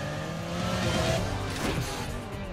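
Street-racing car engine in Need for Speed Most Wanted, with a throaty, watery drone that swells and revs briefly in the middle before settling back, fairly close.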